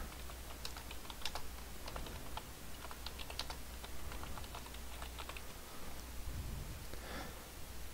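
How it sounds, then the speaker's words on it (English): Typing on a computer keyboard while entering header text in a word processor: a steady run of quiet, close key clicks alone, with no speech. "we're going to type in our text here"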